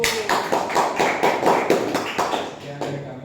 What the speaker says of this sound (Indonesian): Nah, kasih tepuk tangan untuk kelompok 1.